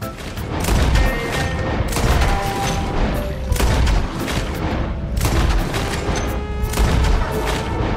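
Rapid gunfire in Red Dead Redemption 2 rings out as a string of loud, sharp shots and booming blasts, arriving in clustered volleys about once a second with no talk over them.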